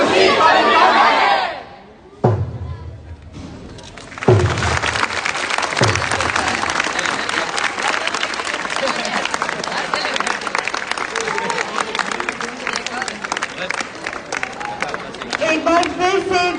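Loud, sustained audience applause and cheering for team DCRG at a semi-final competition event, a dense wash of clapping with crowd shouts that begins after a brief lull and carries on steadily, with voices mixed in.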